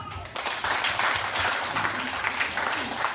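Audience clapping at a church gathering, a full, steady round of applause from many people that begins abruptly and continues evenly, with faint voices beneath it.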